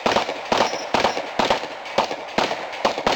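Several rifle shots crack out at a plate match at Clark Rifles in Brush Prairie, Washington, sharp loud reports roughly every half second to second, each with a short outdoor echo, no talk between them.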